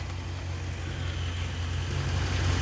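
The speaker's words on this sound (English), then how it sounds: "Alrighty, guys, I got the car on." A Dodge Ram 1500 pickup's engine idles steadily, a close, even low rumble with a faint hiss above it.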